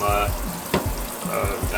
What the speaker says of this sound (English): We're just gonna take the parts here and I'm gonna rinse them off.